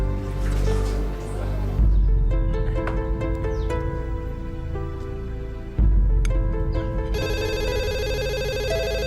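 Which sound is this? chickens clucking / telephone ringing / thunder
telephone ringing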